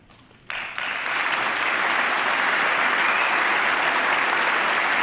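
An audience breaks into applause during a political speech, starting abruptly after a brief pause and then holding as a steady, dense wash of clapping from a large crowd.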